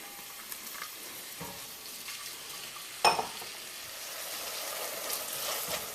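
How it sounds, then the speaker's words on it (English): Onions, garlic and celery frying in a pot for pumpkin soup, a soft continuous sizzle with a brief clatter partway through, no voices over it. "I'm going to toss in the onions because I want that to cook and soften up a bit"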